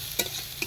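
Chopped cabbage, carrot and onion with a little ginger hit a hot pan for chicken chowmein, giving a steady sizzle with two short stirring scrapes over a brief moment, close and alone.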